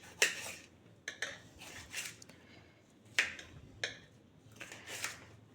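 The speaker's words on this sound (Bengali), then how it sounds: "টমেটোটা কেটে নিলে হয়ে যাবে" Knife chopping a tomato on a board for a quick mixed-vegetable dish, a series of about eight crisp, fairly close taps at an uneven pace against a quiet background.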